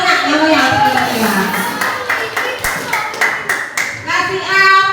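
Applause from a classroom of children for a student group returning to their seats, steady dense clapping with overlapping young voices chattering and calling out throughout.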